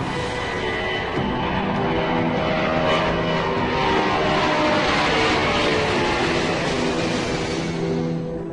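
An airliner, an Indian Airlines plane, takes off again after landing in Lahore, its engines giving a loud, continuous roar that holds steady throughout without voices.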